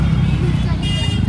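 Crowded Panvel market street during Diwali shopping with jammed traffic, a dense close rumble of engines and vehicles blended with crowd babble and voices talking nearby.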